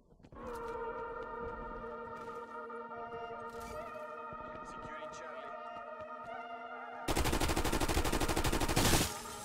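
Sustained tonal game sounds hum along before a Grav assault rifle in Call of Duty: Cold War opens up with a loud, dense burst of rapid automatic fire lasting about two seconds.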